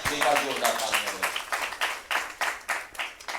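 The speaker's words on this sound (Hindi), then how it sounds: "एक बार जोरदार तालियां।" Audience applause and clapping at a Hindi kavi sammelan poetry gathering, a dense burst of many hands that swells and then settles into rhythmic claps, fairly close and loud, with voices mixed in at the start.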